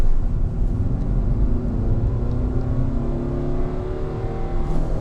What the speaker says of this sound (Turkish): Gazı kökledim. Gayet güzel kalktı.